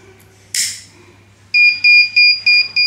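A broadband burst of noise, then a loud electronic fire alarm buzzer on an ESP32 battery management system sounding in a rapid series of about five high-pitched beeps, close and piercing.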